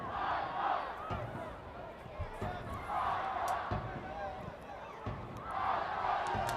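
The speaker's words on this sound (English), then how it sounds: "As you can hear, the crowd are willing Nasaf on to do something" A large football crowd at an AFC Champions League Elite match between PFC Nasaf and Tractor FC chants and roars in swelling waves, with rhythmic thuds and bursts of noise from the stands.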